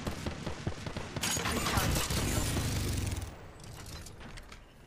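Apex Legends gunfire in rapid close bursts, crackling automatic shots that swell and then fade out over a few seconds.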